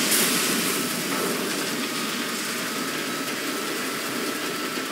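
A vehicle engine in the Sand Land video game roars steadily at full throttle, a loud, dense, unbroken rumble that holds for the whole stretch without pause.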